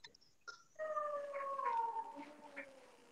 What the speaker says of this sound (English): Just someone's cat or dog in the background.